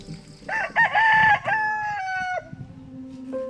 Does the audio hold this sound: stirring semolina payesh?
no